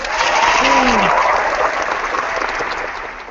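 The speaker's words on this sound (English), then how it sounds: "clap, clap, clap" Applause from an audience at a blogger conference session, a steady, fairly loud patter of clapping that slowly fades, with brief faint vocal sounds mixed in early on.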